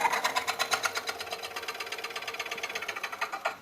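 A Woodcut Bowlsaver coring tool cuts through a wooden bowl blank on a lathe, giving a steady, rapid rhythmic chattering buzz that pulses evenly throughout, close and moderately loud with no talking.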